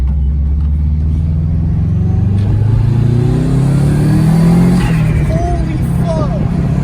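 Turbocharged Subaru STI running about 15 psi of boost, accelerating hard with a rising engine rumble and climbing revs under loud excited talking from people in the car.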